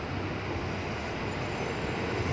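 A new INKA KRL electric commuter train at the Lenteng Agung station platform gives off a steady, broad rumble and hum, a constant droning roar of rolling stock close by with no voices.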